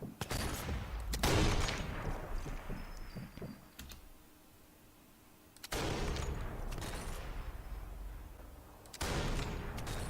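Sniper rifle shots in the video game Sniper Elite 4, sounding as a few loud, sharp blasts spaced several seconds apart, each followed by a rumbling tail, with no talk between them.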